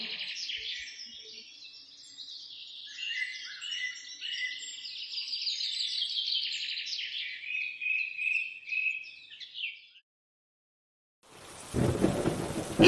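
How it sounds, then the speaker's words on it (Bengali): Birds chirp steadily for several seconds, then after a brief silence a sudden heavy burst of rain and rumbling thunder breaks in. "আবার যে বৃষ্টি শুরু হয়ে গেল।"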